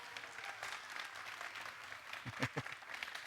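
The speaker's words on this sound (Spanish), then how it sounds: "esta mañana yo quisiera que le diéramos una bienvenida con un aplauso" Church congregation applauding to welcome pastor Adrián Amezquita during a Sunday morning service, a soft, distant patter of clapping heard over room tone, swelling briefly near the end.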